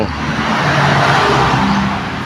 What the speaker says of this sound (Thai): รถมา